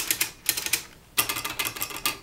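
Typewriter keys clatter in fast, close bursts of clacks with a short pause between, mechanical and crisp with no voice over them.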